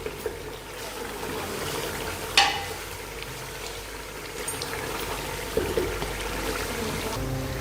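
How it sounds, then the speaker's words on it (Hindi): Beef kachnar sizzles and fries in a pot with a soft, steady crackle, broken by a few clinks of a spoon stirring against the metal. "इसको अच्छी तरह से भून लें आप।"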